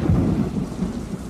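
Steady heavy rain mixed with low rolling thunder in a Family Guy cartoon scene, a continuous close rumble with no talking.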